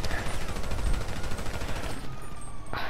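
Gunfire in GTA 5 rattles off in a rapid, dense burst of shots for about two seconds, then cuts out and leaves a quieter tail with a brief thump.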